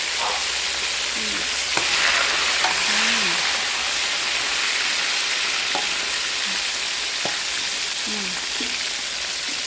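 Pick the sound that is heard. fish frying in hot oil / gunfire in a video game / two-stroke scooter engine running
fish frying in hot oil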